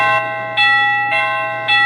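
A SadoTech CXRi wireless doorbell chime rings repeatedly, a loud, close sequence of bright bell-like tones in a regular pattern, heard alone.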